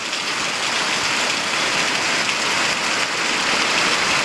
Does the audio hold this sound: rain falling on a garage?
yes